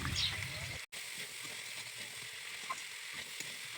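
Boiled chickpeas tipped into a hot pan for ghugni sizzle and hiss steadily at close range, with a brief cut partway through and faint scraping beneath.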